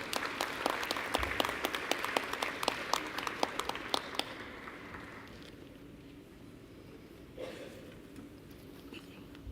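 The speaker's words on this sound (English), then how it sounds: "we can give them a round of applause as they walk up" Audience applause at a Republic of Zambia co-hosted broadcast event as four panelists walk to the stage, loud sustained clapping that thins and fades out midway, leaving quiet room tone.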